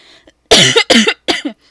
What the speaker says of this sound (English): I got a little cough, so I'm going to be coughing throughout this video every now and then.